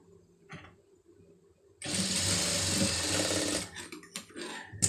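A sewing machine stitches a sleeve lining joint, starting after a quiet pause with a loud, continuous close-up whirr of rapid stitching for about two seconds, then slowing into a few short bursts and handling clicks.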